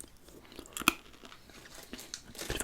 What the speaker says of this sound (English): A bit of a crunch.